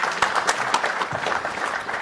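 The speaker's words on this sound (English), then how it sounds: "A warm round of applause for our three panelists." Brief burst of steady audience applause at a seed-breeding conference, close and continuous for two seconds as the crowd claps for three panelists.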